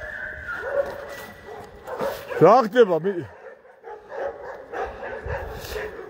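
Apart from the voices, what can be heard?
dogs barking at night in a cemetery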